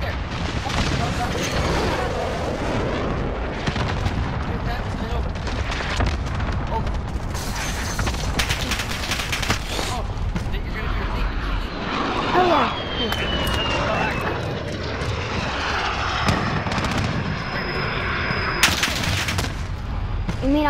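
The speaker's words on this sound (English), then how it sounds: "Enemy cluster strike, take cover!" Cluster strike explosions and heavy gunfire in the Call of Duty: Modern Warfare video game, a dense, continuous barrage of booms, bursts and whooshes, with players talking excitedly over the fighting.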